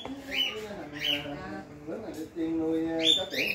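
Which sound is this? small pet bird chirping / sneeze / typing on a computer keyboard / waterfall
small pet bird chirping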